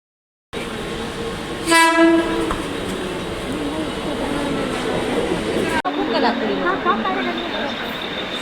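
A train rumbles and clatters steadily nearby on a Mumbai-area line toward Parel, and a loud, brief horn blast sounds early on over the continuous rolling noise.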